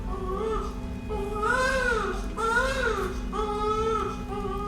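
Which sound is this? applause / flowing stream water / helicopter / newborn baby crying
newborn baby crying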